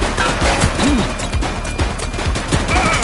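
Gunfire in the police video game The Precinct, a loud sustained volley of rapid shots with scattered crashes mixed into the din.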